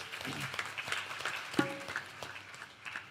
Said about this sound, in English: Give them a wonderful round of applause, please.